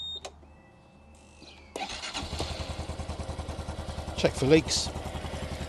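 A Honda Super Cub C125 motorcycle engine cranks and catches after a quiet stretch, then settles into a close, even, pulsing idle; someone speaks briefly over it.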